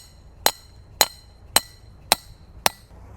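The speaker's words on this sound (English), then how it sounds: "Drive the pin in." Five sharp metallic strikes of a hammer driving a steel narrowboat mooring pin into the ground at a canal bank, evenly spaced about half a second apart, close and clear with no talking.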